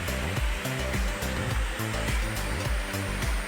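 Steady roaring rush of water at the Kurudkut waterfall, a picnic spot in Deogarh, loud and continuous throughout with a low rumbling undertone.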